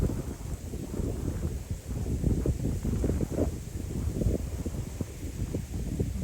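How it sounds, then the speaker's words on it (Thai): Strong, cold night wind blows outdoors in rural Isan, Thailand, gusting in uneven bursts with rustling buffeting against the microphone, steady and fairly loud throughout. "ลมเริ่มแรงแล้วนะคะ อากาศก็เย็นนะคะ"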